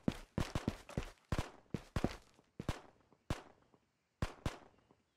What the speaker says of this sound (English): Gunfire that way